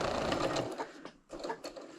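A sewing machine stitches quilt-as-you-go fabric scraps in a steady close whir that pauses briefly and then resumes, with no talk over it.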